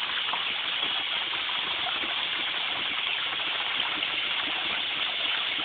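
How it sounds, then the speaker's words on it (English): Water pours steadily into a garden pond in spring in Georgia, a dense, even rushing with no pauses or voices, close and constant throughout. "We'll just listen to the water for a minute."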